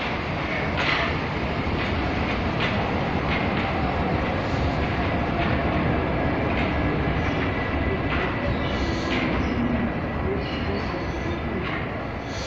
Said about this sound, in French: une autre rame qui arrive